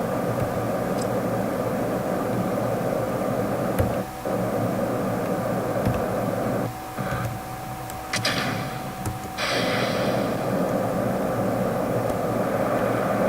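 Rocket engine roaring at full throttle in Kerbal Space Program, a dense continuous broadband rush held close and loud for the whole stretch, dipping briefly a few times before surging back, with no voices.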